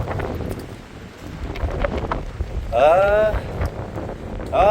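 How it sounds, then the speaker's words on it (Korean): Strong wind buffets the microphone on a mountainside, a continuous rough roar that swells and gusts, with a person's voice rising briefly over it. "바람 끝내줍니다"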